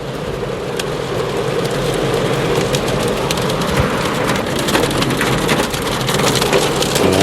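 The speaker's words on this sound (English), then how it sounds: "It is raining hard now for me." Heavy rain pounds down in a dense, loud, continuous roar, with sharp drops crackling on a hard surface nearby and hail mixed in.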